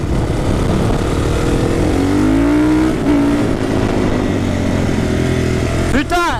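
A Honda CRF 450 motorcycle prepared for supermoto riding on a track: a loud, close single-cylinder engine drones and revs, with pitch rising and falling as the rider accelerates, then a sharp rev sweep near the end.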